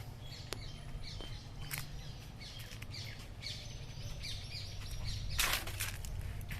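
Small birds chirp and tweet intermittently over a steady low hum, with a brief louder burst of calls near the end.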